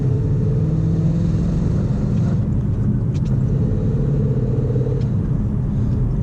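A 2018-2019 Mustang GT with a Texas Speed 1-7/8 inch long-tube catted header and active exhaust in quiet mode drones low and steady, a constant muffled rumble heard from inside the car.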